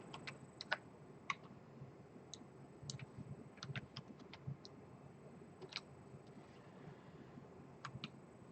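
Faint, scattered key taps on a computer keyboard as values are typed in, irregular light clicks spread across several seconds over quiet room tone.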